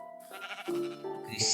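A sheep bleats in a zombie survival block-building game, with a wavering, drawn-out cry that rises and shifts in pitch over a second and a half, loud and close.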